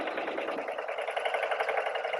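Steady rapid whirring and ticking of a quilt club sewing machine stitching quilt pieces with a quarter-inch piecing stitch, close and continuous, with no talking.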